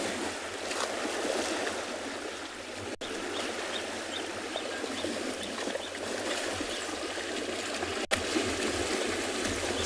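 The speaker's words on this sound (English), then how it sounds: "You can hear all the splashing going on." Animals splash while swimming in a dam on the Tswalu reserve at sunrise, a continuous wet sloshing and splashing with steady water noise, moderately close, no voices over it.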